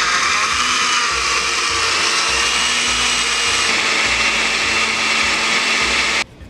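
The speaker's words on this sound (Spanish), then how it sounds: "Le agregamos sal y vamos a licuar." A blender whirs loudly and steadily for several seconds, pulsing through chiles, salt and other ingredients, then cuts off abruptly.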